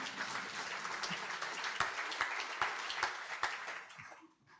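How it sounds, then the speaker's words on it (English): A gathered audience at a celebration-of-life gathering for a man gives a sustained round of applause, dense steady clapping with a few sharper claps standing out, fading away in the last half second. "I can have a round of applause here or some bloody thing"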